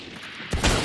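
Valorant gunfire bursts in after a stretch of low game ambience, a sudden loud broadband crack with a short trailing rumble.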